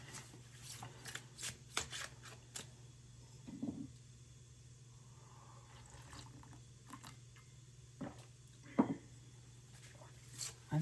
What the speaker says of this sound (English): I've been shuffling the cards,